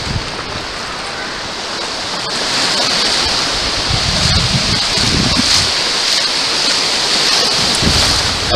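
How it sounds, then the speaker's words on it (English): Waves and surf at Fistral Beach, Newquay, at sunset: a broad, continuous wash of breaking surf, rising and swelling louder partway through, mixed with wind buffeting the microphone. "Absolutely lush sunset swim at Fistral Beach"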